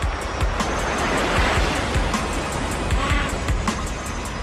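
Surf breaks and washes steadily onto a Falkland Islands beach where Gentoo penguins gather, a continuous broad roar with occasional wind buffeting and no voices.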